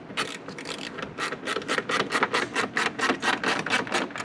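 A ratchet wrench clicks in rapid, regular bursts while starting the intake bolts on a Kia Stinger, a steady run of close, sharp metallic ratcheting with no talk.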